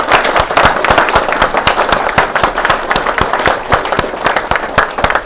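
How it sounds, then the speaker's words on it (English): Sustained applause from an audience at a school board of education meeting honouring award recipients, a dense, steady patter of many hands clapping throughout with sharp individual claps standing out. "let's go ahead and give them a round of applause as well"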